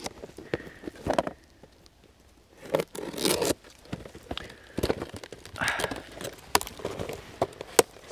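A tightly packed parcel being unwrapped, with bursts of tearing and crinkling packaging and sharp rips, stopping and starting in close, loud snatches, while someone talks briefly between them.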